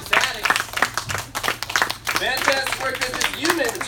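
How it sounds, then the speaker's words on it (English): A classroom group claps enthusiastically for a student in a Crispus Attucks costume, a brief burst of applause with a voice speaking over it. "Give him a big round of applause"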